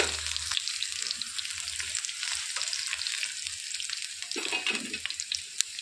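Dried red chilies and garlic cloves frying in hot oil for an egg chutney tempering, a steady crackling sizzle with occasional stirring clinks, alone and fairly close.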